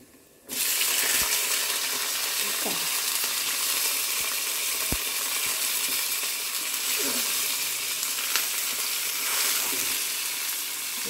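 Green chillies fry in about a spoonful of oil for a dosa chutney, a steady close sizzle that starts abruptly and runs throughout, with occasional clicks and scrapes of utensils against the pan.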